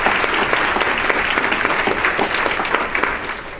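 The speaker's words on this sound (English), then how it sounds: "Let's give them a round of applause." An audience at an evening dinner event claps in a sustained, dense burst of applause that fades slightly toward the end, with no talking.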